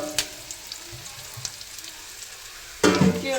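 Vegetables with grated coconut frying in a pan for upsaaru, a soft steady sizzle with light stirring taps, then a sudden louder burst of crackling near the end.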